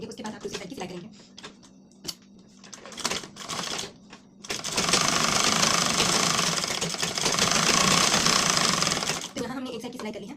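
Sewing machine stitching a blouse cross strip: a few short stop-start bursts, then a long, loud run of rapid mechanical clatter, close by, with someone speaking in the quieter gaps.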